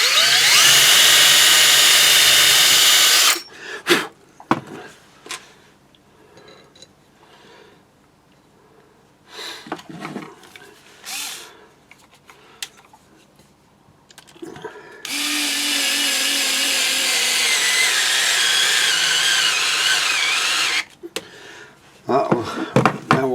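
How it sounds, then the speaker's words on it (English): A power drill boring a starter hole at the centre of a circle cutting jig, loud whining bursts of a few seconds each, separated by quieter handling and pauses. "I'm just going to drill a starter hole."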